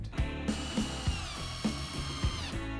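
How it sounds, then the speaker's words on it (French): A screw is driven into a wooden corner brace on a DIY outdoor bin shelter, producing a steady whirring power-tool drone with a series of short ratcheting bursts and thumps repeating about every half second, close and fairly loud. "on va tout simplement le visser"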